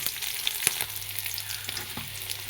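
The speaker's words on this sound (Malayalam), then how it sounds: "കടുക് പൊട്ടിക്കഴിഞ്ഞാൽ അതിലേക്ക് വെളുത്തുള്ളിയും പച്ചമുളകും ചേർത്ത് കൊടുക്കുക." Garlic and green chillies frying in hot oil with popped mustard seeds for a spinach thoran, a steady close sizzle with faint crackles and occasional stirring scrapes, no voices.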